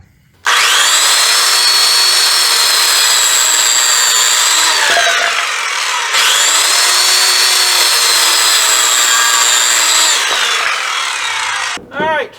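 A loud power saw rips through wood in two long sustained cuts, motor whining steadily, each ending with a drop in pitch before a brief final burst.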